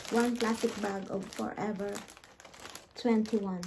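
A plastic shopping bag from a clothing store crinkles in short bursts while someone talks over it, close and fairly loud.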